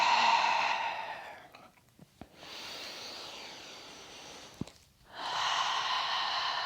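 Slow, deep breaths during a relaxed yoga breathing exercise, long airy inhales and exhales with a soft hiss, close and steady, separated by a quiet pause.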